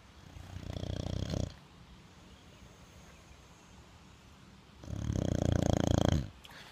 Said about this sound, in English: You've probably heard her snoring there.